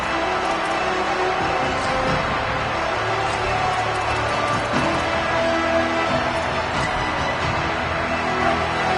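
A football stadium crowd in the video game College Football 27, with Oregon playing Nebraska, sends up a dense, constant roar that stays loud and unbroken throughout, with faint voices buried in the din.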